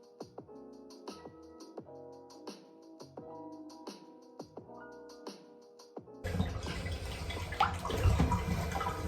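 Running water splashes in a bathtub while a face mask is washed off, close, uneven sloshing and dripping, beginning quietly and turning into a louder steady gush; a musical backing plays first.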